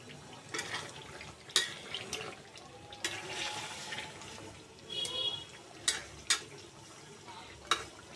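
Pieces of tough layer-hen skin and small unlaid eggs are stirred in a pan, making soft scraping and sloshing with a light sizzle and a few sharp clacks of the spoon against the pan. The sounds are quiet and close, with no talk.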